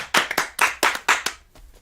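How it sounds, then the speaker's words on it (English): Audience at a company meeting clapping for a list of employees, a short burst of several sharp, distinct hand claps in an uneven rhythm, close and fairly loud, fading out at the end. "So clap it up for all of them."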